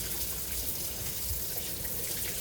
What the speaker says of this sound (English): Let me rinse this off my hands.